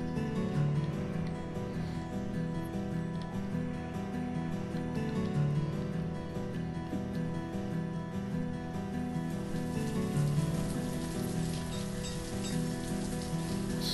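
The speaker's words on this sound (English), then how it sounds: "So much rain." Steady rain in the town-building game Banished patters on surfaces in a continuous, even wash, with faint tonal background music underneath and no speech.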